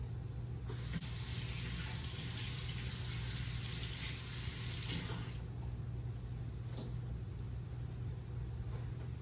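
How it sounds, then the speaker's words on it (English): A kitchen tap runs for hand washing, a steady close hiss of splashing water that cuts off about halfway through, leaving a low background hum. "I'm gonna go ahead and wash my hands"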